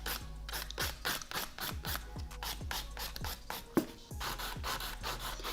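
A nail file rasps back and forth over an acrylic nail, blending it in quick, even strokes at close range, a steady rhythmic scratching with a brief louder knock partway through.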